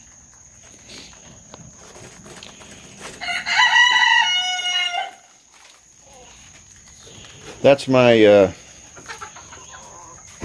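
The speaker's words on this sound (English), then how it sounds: "young rooster who knows how to crow now" A young rooster crows twice at close range on a backyard farm morning, each crow a loud, rising and falling call, with a person talking briefly between them.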